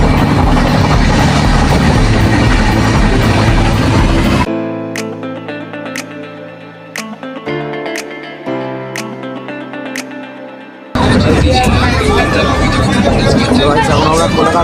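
A long-distance train runs through West Bengal toward Kolaghat station, its loud rumble and rattling filling the start and end, with a quieter stretch of metallic ticks and clinks in between. Crowd chatter blends into the noise.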